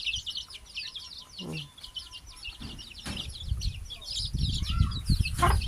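Hens and small black chicks cluck and peep steadily at close range on a farmyard, with bird chirps and low rustling throughout and no talk.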